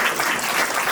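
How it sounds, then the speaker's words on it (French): An audience at a volunteers' evening hosted by the town hall in Melun applauds two local artists with a short, dense, steady burst of clapping. "On peut applaudir."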